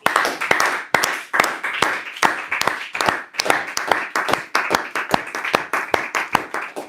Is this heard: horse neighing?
no